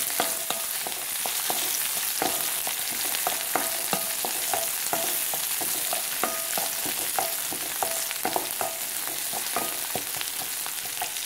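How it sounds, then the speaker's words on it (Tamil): Onions and fenugreek greens sautéing in oil in a pan, a constant close sizzle broken by frequent sharp, irregular clicks and scrapes of a stirring spoon, with no voices. "கொஞ்சம் நல்லா வதங்கட்டும்."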